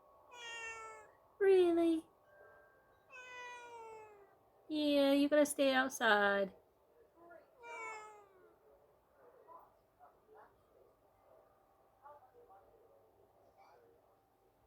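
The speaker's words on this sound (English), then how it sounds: "What are you doing, kitty kitty?" Tinkerbell the cat meows several times at a window, each meow clear and close, separated by short pauses, while people talk quietly nearby between the calls.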